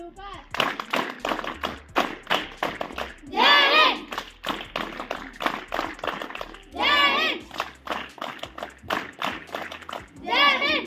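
Schoolchildren clapping hands together in a classroom activity, bursts of rhythmic group claps alternating with a teacher's voice counting and giving instructions.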